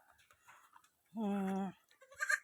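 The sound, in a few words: goat kid bleating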